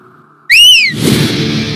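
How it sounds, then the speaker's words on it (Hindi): A loud, shrill whistle blown once up close, a sharp rising-then-falling blast lasting about half a second before a rushing breathy noise follows. "सीटी क्यों बजा रहा है बे?"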